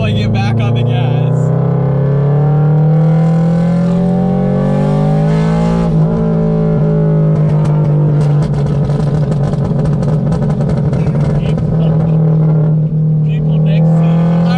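A straight-piped Toyota GR86 roars loud and close as it accelerates, the raw exhaust note climbing and shifting through revs with crackling pops, while people talk over it from inside the car.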